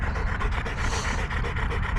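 Up close, a dog pants heavily in a fast, rhythmic series of breaths outdoors, with no speech over it.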